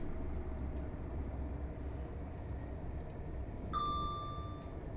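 A Class 800 passenger train slows under braking in Train Simulator 2022, a soft low rumble of rolling stock with a faint high tonal whine rising near the end, quiet and steady throughout.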